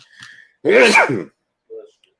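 A single sharp sneeze bursts out close by, preceded by a faint intake of breath and followed by a brief quiet vocal sound.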